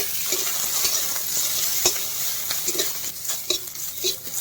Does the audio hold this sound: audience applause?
no